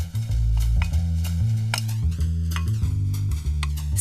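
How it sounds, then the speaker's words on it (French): A spoon stirs a mixture of ham and tarragon in a bowl, producing repeated scraping and clinking strokes in a steady rhythm, close and clear with no speech. "on va mélanger le jambon et l'estragon"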